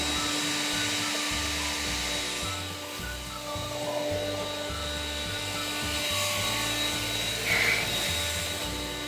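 A Bosch leaf blower runs continuously, a loud steady whine over a pulsing low rumble, with no pauses throughout.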